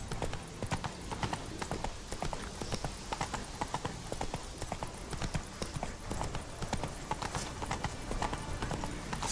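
Hooves of Roach, a horse in the game The Witcher 3, in a quick steady clip-clop rhythm as it rides along, close and continuous, with no talking.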